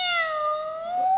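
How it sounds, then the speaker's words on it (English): A cat gives one drawn-out, clear meow close by, its pitch sliding slightly down and then rising again at the end, with nothing else heard. "The cat mewed in answer and stalked again stiffly round a leg of the table, mewing."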